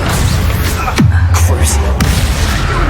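Expelliarmus spell cast in the video game Hogwarts Legacy: a sharp descending swoosh ends in a booming impact, set within loud, dense combat noise with another crack shortly after.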